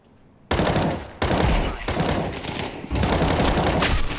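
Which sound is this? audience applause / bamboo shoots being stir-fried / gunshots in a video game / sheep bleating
gunshots in a video game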